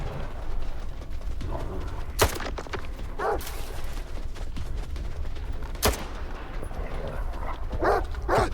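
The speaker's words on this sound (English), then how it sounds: "I hear dogs." Dogs bark in STALKER 2: Heart of Chornobyl, a few sharp distant-sounding barks scattered over a dense ambient game background, with no talk.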